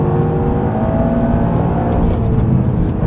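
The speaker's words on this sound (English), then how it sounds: "I'm getting down on second this time, actually, because I want to get that power out." A 2024 Toyota GR Yaris engine drones loudly and continuously on a track, its revs shifting as it works through the gears and pulls hard.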